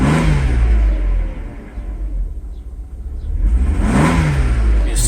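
A Mercedes SL600 V12 with a suspected throttle-body fault revs up twice, and each climb stumbles and chokes before falling back. The engine sits loud and close, with a rough dip between the two pulls.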